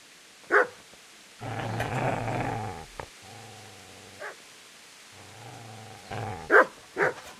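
A dog in the video game Kingdom Come: Deliverance gives sharp, close barks and longer low growls, alternating irregularly across several seconds.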